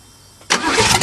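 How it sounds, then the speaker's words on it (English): An old car engine cranks over on a cold start, the starter whirring loudly after a brief quiet lead-in and continuing steadily to the end. "let's just see a quick crank"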